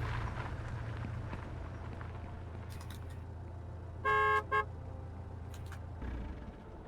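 In the Fast Food Simulator video game, a delivery truck gives a short double honk over a steady low engine rumble and background noise.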